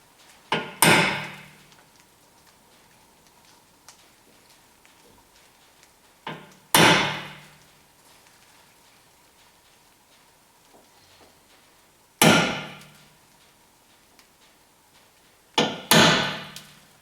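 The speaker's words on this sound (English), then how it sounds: "Now I'm going to find those marks, and I got my center punch." Four sharp metallic hammer strikes on a center punch, spaced several seconds apart, each ringing briefly before fading, with quiet room tone between.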